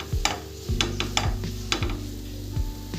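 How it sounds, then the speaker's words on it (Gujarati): Grated carrots are stirred in ghee in a pan for carrot halwa, a soft sizzle under repeated scraping and clinking strokes of a spoon against the pan, close and steady. "ગાજરને આપણે હલાવતા રહીશું અને ઘીમાં શેકી લઈશું।"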